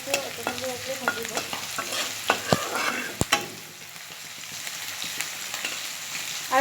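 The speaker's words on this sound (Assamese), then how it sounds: "ইয়াতে মায়ে মিঠাতেলৰ ওপৰত পিঁয়াজ এড কৰি ভাজি আছে" Onions frying in mustard oil in a wok, a steady close sizzle with scraping stirs and occasional sharp clinks of the utensil against the pan.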